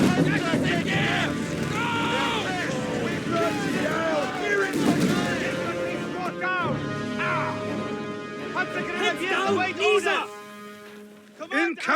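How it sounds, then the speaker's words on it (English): Artillery and gunfire boom and crash in Company of Heroes 3 on a North Africa battlefield, loud, repeated impacts over continuous combat noise, with soldiers' voices shouting throughout. "Incoming artillery!"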